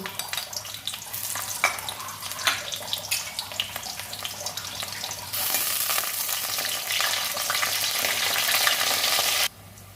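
Garlic with dried and green chillies fry in mustard oil with a loud, dense, continuous sizzle that swells midway, holds steady, then cuts off abruptly near the end.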